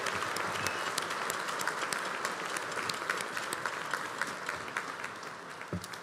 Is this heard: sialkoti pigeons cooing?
no